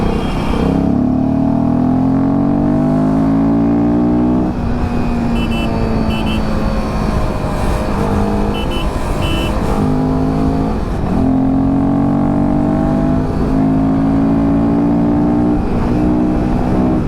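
Adventure motorcycle engine, a Himalayan 450 or Scrambler 400X, pulling hard in fourth gear: a loud, close, continuous rising drone that climbs in pitch over long stretches with heavy wind noise.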